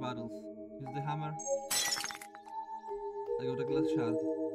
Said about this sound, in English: Some glass bottles. Use the hammer.